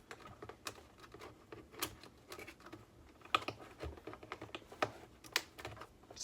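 Small cutters snipping through two plastic zip ties while unboxing a Losi NASCAR AWD RTR brushed RC car: a series of sharp, light clicks and snaps at close range, irregularly spaced over quiet handling noise.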